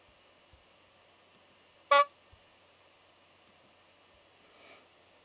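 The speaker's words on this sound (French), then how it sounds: "je vais aller chercher des sons de klaxon" A single short car horn blast played back from a sound file, standing out sharply against a faint steady hum, with a softer, duller swell near the end.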